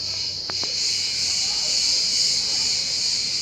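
Outside an old historic mosque, crickets and other insects keep up a dense, loud, continuous high shrill. A couple of brief clicks come early, and the constant drone continues without pause.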